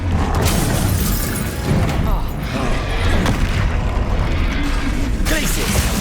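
In the Hogwarts Legacy video game, the Confringo spell erupts in dense booming blasts amid continuous loud combat noise, with shouted voices mixed through the clash.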